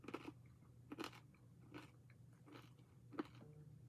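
Crunchy fried corn snack pieces being bitten and chewed close up, about five distinct crisp crunches spaced roughly every half second to second, quiet and alone without talk.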